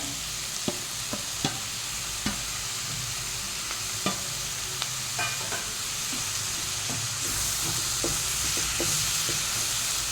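Tomatoes added to onions frying in a pan for egg chilli sizzle steadily, with a continuous hiss and scattered sharp ticks and scrapes of stirring, close by and without speech.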